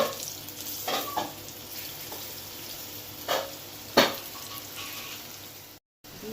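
Shrimp cutlets shallow frying in a pan over medium flame, a soft steady sizzle broken by a few sharp spatula scrapes and clinks while the cutlets are turned, quiet and close.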